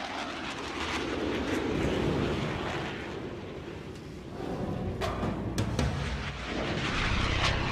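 F-16 fighter jets flying in formation produce a loud, sustained roaring rumble of jet engines, swelling and easing, with sharp bursts of noise toward the end.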